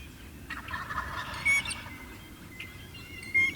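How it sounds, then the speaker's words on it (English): Two distant wild turkey gobbles through woods, rapid rattling calls about two seconds apart, carrying faintly through a quiet outdoor background. "Before long, I heard distant gobbles coming through the woods."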